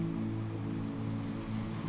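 Ocean waves by a seaside cottage, a steady soft wash of surf with a low rumbling undertone, faint and continuous.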